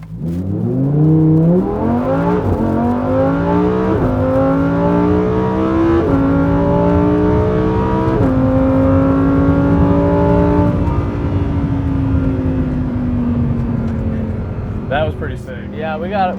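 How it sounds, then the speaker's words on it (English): A car engine, either a Dodge Hellcat or a Lamborghini Huracan, revs hard under acceleration, pitch climbing through several gear changes before settling into a steady loud drone, close and continuous with a brief voice near the end. "I'll let it rev out a little bit higher."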